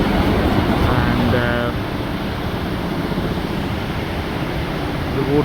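Steady broadband rushing water from Victoria Falls, Zambia, like a distant waterfall, fills the whole clip with a constant roar; faint voices briefly rise above it.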